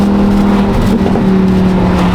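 A Lamborghini sports car engine drones and revs steadily at close range, loud and continuous, with a low exhaust rumble; no distinct separate pops stand out.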